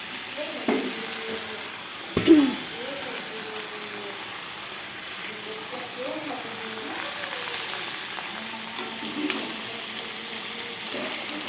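Elephant foot yam stalks frying in a wok, a steady sizzle with scraping stirs and a sharp clatter early on, while people talk intermittently nearby.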